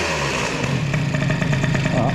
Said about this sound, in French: maintenant je peux mettre du ralenti sans que le moteur reste énervé.